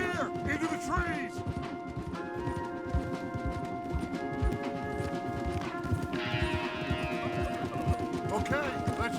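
Horse hooves clip-clopping in Red Dead Redemption 2 as riders move through trees, a steady rhythmic clatter of hoofbeats under tonal music, with occasional whinnies and game ambience.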